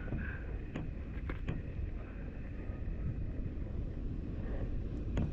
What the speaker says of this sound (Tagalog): Malakas kasi hangin eh